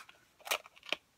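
Two sharp scissor snips through paper, close and crisp, spaced about half a second apart, with old scissors cutting for a mini album art tag and no talking.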